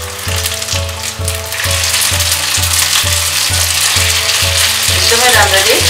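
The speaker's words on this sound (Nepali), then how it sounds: "अब यो मोमोहरुलाई चाहिँ हल्का रातो हुने बेलासम्म यसलाई फ्राई गर्नुपर्छ" Chili momo dumplings frying in a pan until lightly browned, a loud close sizzle with crackling and stirring over a steady rhythmic low mechanical hum, no talking.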